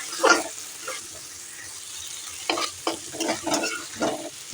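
Potato and bitter gourd pieces sizzle in a hot pan as a spatula stirs and scrapes them in irregular strokes, moderately close, with no talking.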